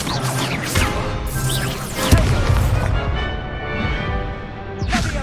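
Fire spell blasts from Incendio casting in Hogwarts Legacy on PS5, a dense whooshing burst of crackling magical combat with impacts, booming hits and layered game effects running continuously.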